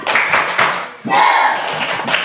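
A class claps a rhythmic chant in bursts, with several quick patterned clap groups and a brief pause midway, loud and close, with voices mixed in.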